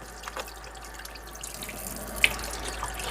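Tap water runs steadily into a sink while a whole eviscerated quail is rinsed under it, a soft continuous stream with one brief sharp drip-like tick partway through.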